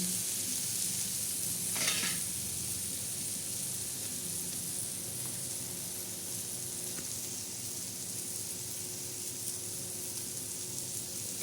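Garlic chutney with chilli frying to a reddish brown in a pan, a constant sizzle with a sharp scrape of stirring early on, otherwise steady and unbroken.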